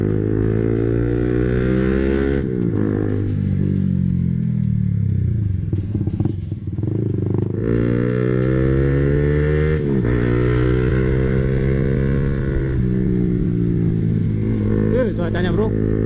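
A motorcycle engine drones steadily with rising and falling revs after rain in Puncak, Bogor, someone talking over it throughout and traffic around.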